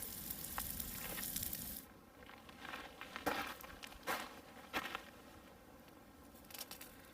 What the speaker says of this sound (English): That New York strip steak is cooking good